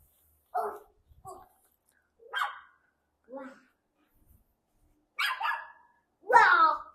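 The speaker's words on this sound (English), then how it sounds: "Oh, he's barking." Outdoors, a dog lets out a handful of short, separate barks with pauses between them, close and fairly loud against an otherwise quiet background.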